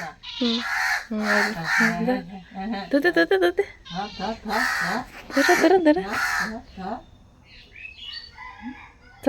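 A crow caws repeatedly in loud, harsh bursts, clustered in short runs with brief pauses, close by during outdoor cooking of broiler chicken with potatoes; voices are mixed in.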